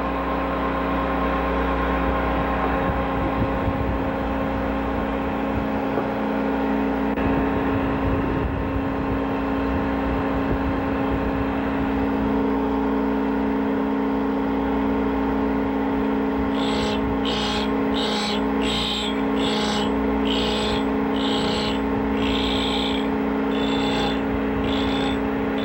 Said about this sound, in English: Let it grind until it sparks out